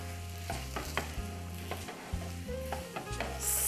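Dates being stirred with butter and freshly ground cardamom in a pan with the heat off, heard as a soft sizzle broken by several distinct scraping stirs and clinks at an uneven rhythm, with no talking.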